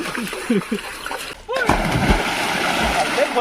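Voices call out while water sloshes, then heavy splashing as something wades through deep water, loud and close.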